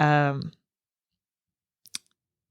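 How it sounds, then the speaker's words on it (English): A pen clicks twice in quick succession, sharp and close, just after a person stops talking, then quiet. "You can hear the pen clicking."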